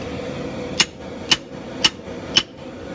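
Four sharp, evenly spaced hammer blows ring out on hot steel as a 3 lb straight peen hammer head is drawn down by hand, each strike loud and close against a low steady background hum.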